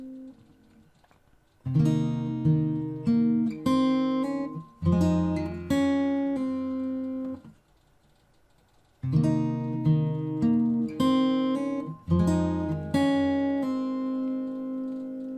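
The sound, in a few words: fingerstyle guitar playing bar 23 of a song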